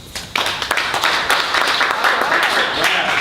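An audience claps together in a hall at an unplugged live event, a dense burst of close, steady applause that starts abruptly and carries on under faint voices.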